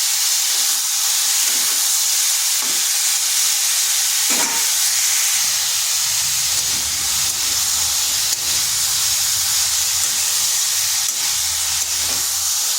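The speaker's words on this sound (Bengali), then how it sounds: "আর এঁচোড়টাকেও একটু ভেজে নেব" Boiled jackfruit frying in oil in a pan, a loud continuous steamy hiss and sizzle close by, broken by a few soft clinks of a spatula.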